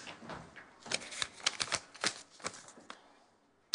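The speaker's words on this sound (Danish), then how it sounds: "Du kan blande dem rundt så meget du vil." Paper envelopes holding coins are slid and shuffled around a tabletop during a televised mind-control magic demonstration. The result is quiet, close papery rustles and scattered clicks in an irregular rhythm with no talking.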